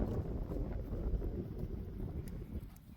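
Low, rumbling wind buffets the microphone in continuous gusts, a rough steady roar with no voices.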